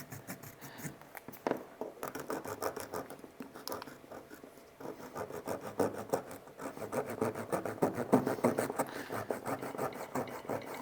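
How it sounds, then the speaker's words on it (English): A GoPro Hero 11 camera case being sawn open near the screen edge, with steady rasping, scraping strokes that continue throughout and grow slightly louder toward the end, close up. "Now we're gonna use either our saw or our knife, and then we're gonna start going to that little line here next to the screen"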